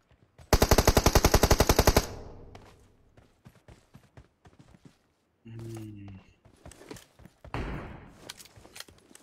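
Automatic gunfire in the mobile battle-royale game PUBG Mobile: a loud, rapid burst of about a dozen shots, followed by scattered thuds, footsteps and another short flurry of in-game action, with a voice heard at times.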